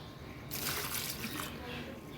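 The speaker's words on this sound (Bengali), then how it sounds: "একটু ঢেলে রেখে দিই।" Liquid plant fertilizer is poured for a hibiscus plant, giving a brief soft splashing pour of about one second, quiet and close.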